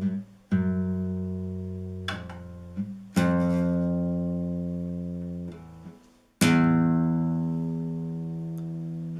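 A single acoustic guitar string tuned too high is plucked four times, each note ringing out clearly and fading slowly, with no voices.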